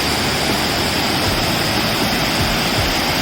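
A forest waterfall in Kerala roars as a dense, loud, unbroken rush of falling water, close and steady throughout with no other sounds on top.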